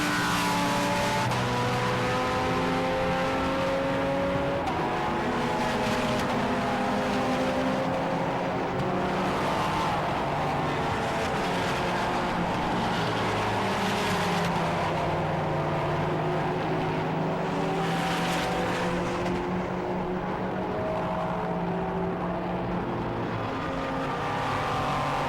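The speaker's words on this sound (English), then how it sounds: "The Nissan now goes a lap down to the flying Jamie Stanley" Race cars at a Britcar Endurance Championship race at Silverstone, engines droning and shifting pitch continuously as cars pass and accelerate, loud and steady throughout with no speech.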